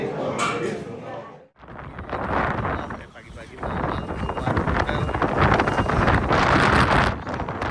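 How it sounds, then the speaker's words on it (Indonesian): Strong, unbroken wind gusts buffet the microphone on a Beijing street at night, a loud rushing roar that briefly drops out before surging back stronger. "Angin itu kenceng banget, gak berhenti sama sekali"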